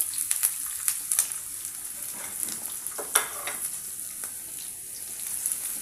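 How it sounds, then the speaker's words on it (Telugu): Chopped onions, green chilies, cinnamon and cloves fry in hot oil with a steady close sizzle, broken by the scrape and clatter of stirring throughout, no voices. "ఇప్పుడు ఇందులో మనం కట్ చేసి పెట్టుకున్న ఉల్లిపాయలు, పచ్చిమిర్చి అండ్ ఈ చెక్క, లవంగాలు అన్నీ వేసేసుకున్నాం కదా"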